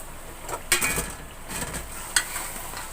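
Boiled mutton with potatoes being fried in a pot for Delhi-style aloo gosht, with a soft sizzle and stirring scrapes and a couple of sharp metallic clinks of the spoon, close and steady, no talking.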